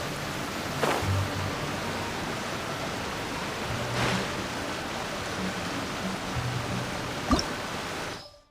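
A waterfall in the video game Genshin Impact gives off a steady, even rush of falling water that carries on throughout, with a few faint thuds now and then.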